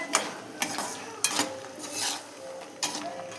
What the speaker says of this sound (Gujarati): આ શક્કરપાડા છે ને આપણે આ ચાસણીમાં એડ કરી દીધા હવે આપણે એને મિક્સ કરી દેવાના